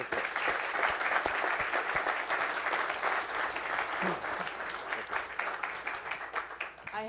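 A live audience claps steadily in sustained applause at an evening presentation, a dense, even patter of many hands filling the room from start to finish with no speech over it.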